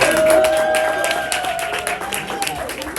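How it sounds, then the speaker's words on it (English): Applause from an audience after a TikTok community panel in Miami, steady clapping at moderate loudness throughout, with whoops, cheers and some voices mixed in. "Round of applause."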